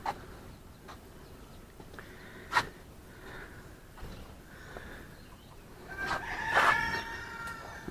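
Chickens clucking intermittently nearby, then a rooster crows loudly toward the end, with scattered sharp squawks in between.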